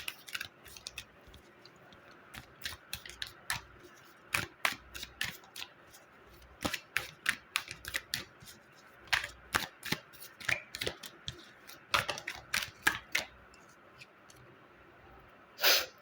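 Tarot cards are shuffled in a run of quick, crisp riffling bursts and slaps, fairly close and spread over the stretch with brief pauses between them, and no talk.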